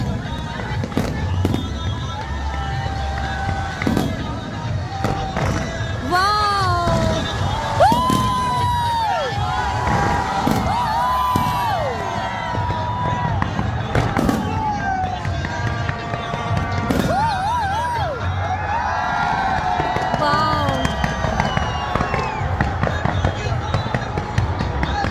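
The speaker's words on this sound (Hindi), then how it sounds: "क्या खूबसूरत आतिशबाजी की है यार" Independence Day fireworks over Lahore pop and crackle continuously, with sharp bursts and whistling rockets, while a crowd cheers and whoops and people talk nearby.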